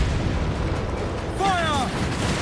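Ship cannons fire in a dense, continuous booming rumble during a Ubisoft naval battle game, with a shouted voice rising over the barrage.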